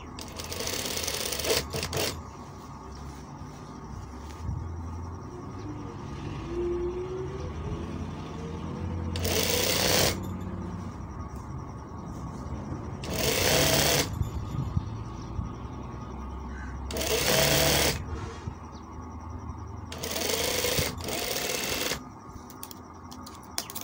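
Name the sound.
sewing machine stitching a kameez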